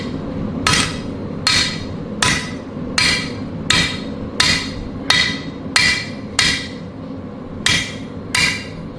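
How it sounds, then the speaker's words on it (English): Steady, evenly spaced blacksmith hammer blows ring out on hot metal at the forge, about eleven sharp metallic strikes with short decays over a low, constant background rumble, no talking. "Your hammer strikes are now, pretty much,"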